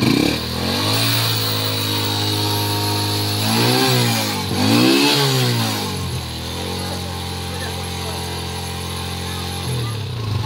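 A Pinoy 125 motorcycle engine runs steadily to charge a low battery, a close, loud mid-pitched hum that revs up twice briefly before settling back to a constant idle.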